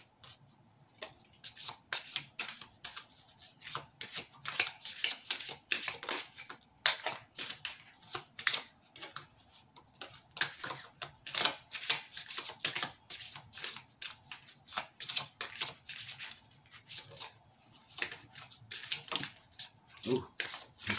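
Tarot cards being shuffled and handled in steady rapid bursts of riffling and flicking, close and fairly quiet, running continuously with no talking over it.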